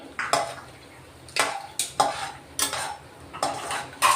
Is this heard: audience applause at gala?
no